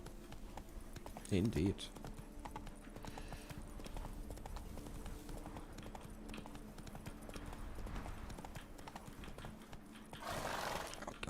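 Roach, the horse in The Witcher 3, gallops with steady clip-clop hoofbeats and a brief whinny near the start, set against game ambience while someone briefly speaks.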